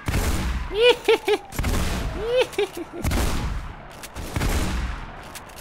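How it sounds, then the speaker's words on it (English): Shotgun blasts in Mirror's Edge on PC, a few sharp close shots in quick clusters amid game noise, with a player briefly speaking. "Shotgun, heck yeah."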